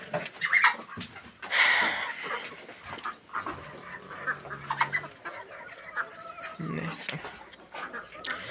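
Chickens cluck and chirp close by alongside a hen that has begun hatching chicks on a farm, with short bursts of peeping scattered between a man's speech.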